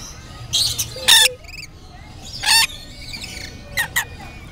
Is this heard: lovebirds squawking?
yes